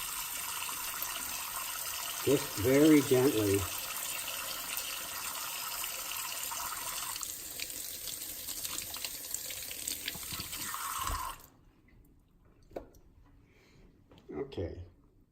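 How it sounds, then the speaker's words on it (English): A kitchen tap runs water over an item being washed with a little soap, a steady broadband rush lasting about eleven seconds before cutting off; someone speaks briefly over the flow, with a few faint clicks after. "I'm going to run it under water"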